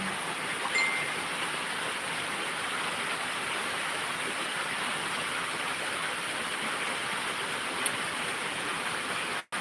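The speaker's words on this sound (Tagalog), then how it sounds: "Ulan." Steady rain falling outdoors in a rural yard, a constant broadband hiss of drops with no pauses, moderately loud and unbroken, with no talking.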